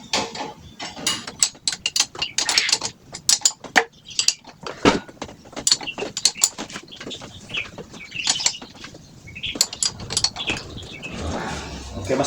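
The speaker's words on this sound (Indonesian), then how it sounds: "Kita kencangkan menggunakan kunci 14." A 14 mm wrench tightens the upper axle bolt on a Suzuki Hayate motorcycle, making a rapid series of sharp metallic clicks and ratcheting strokes close up, irregular and loud, with no talk.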